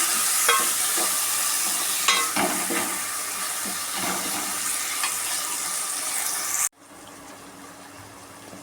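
Chopped tomatoes sauté and sizzle in a pan for prawn curry while a spoon stirs with scraping, clinking strokes; the frying stays steady and close, then drops abruptly to a quieter, fainter sizzle near the end.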